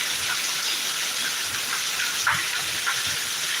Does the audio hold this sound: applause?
no